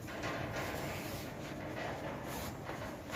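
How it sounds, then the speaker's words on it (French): Wind rushes through an abandoned factory as a constant, faint hiss and rumble, with soft rubbing and rattling textures and no voices. "tous les bruits, tout ça qu'on entend, c'est le vent."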